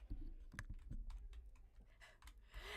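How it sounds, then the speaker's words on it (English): A clackety computer keyboard is tapped in quick, irregular bursts of light clicks, heard close but quietly, with no talking. "I have a kind of clackety keyboard anyways"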